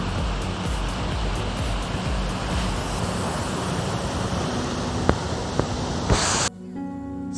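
Stream water rushes steadily out of a culvert beside a forest service road in Kakwa Provincial Park, a close, continuous broadband roar with a few small splashes before it cuts off abruptly near the end.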